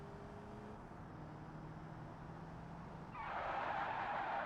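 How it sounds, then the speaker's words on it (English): A car braking hard in BeamNG.drive: a low engine drone gives way to a sudden loud tyre skid squeal that holds to the end, with no talking. "Slam on the brakes and cut the turn a bit."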